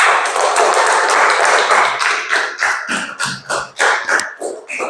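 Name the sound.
audience applause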